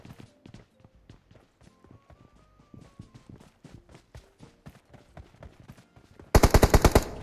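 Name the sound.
gunfire in video game PUBG Mobile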